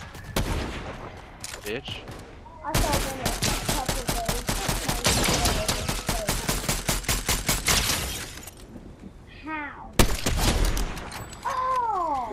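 Gunfire in Fortnite rattles out as rapid, evenly spaced loud shots in a long sustained burst, with short bursts before and after, while players talk and shout over it.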